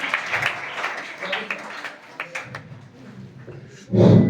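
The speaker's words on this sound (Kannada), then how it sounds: "ಅವರಿಗೆ ಚಪ್ಪಾಳೆ ತಟ್ಟಿ ಶುಭ ಕೋರಬೇಕು." Applause from an audience at a birthday honour ceremony for a couple, a loud burst of clapping rising only at the very end after a stretch of scattered taps and background chatter.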